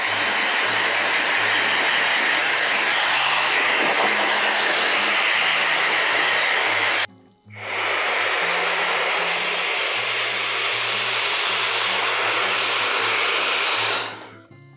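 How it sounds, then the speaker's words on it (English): A Protouch Airshot multi-styler used as a hair dryer blows loudly and steadily up close, cuts off briefly midway, then roars back on before stopping near the end. "you can use this like a normal hair dryer"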